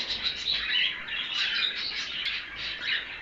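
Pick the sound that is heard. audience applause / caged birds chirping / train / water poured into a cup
caged birds chirping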